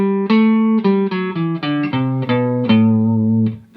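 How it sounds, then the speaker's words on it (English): A Dorian scale sounds as a run of about a dozen sustained, harmonically rich notes, played one after another up and down, close and clear with no talk. "That's called the Dorian scale."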